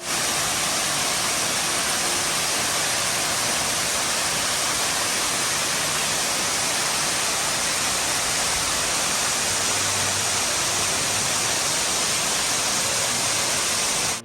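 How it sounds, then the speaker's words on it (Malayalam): Wei Sawdong Falls roars without pause, a loud, dense rush of water crashing heard from close by with no voices. "നമുക്ക് നല്ല രസമാണ് ഈ വെള്ളത്തിൻ്റെ സൗണ്ടൊക്കെ കേട്ട്"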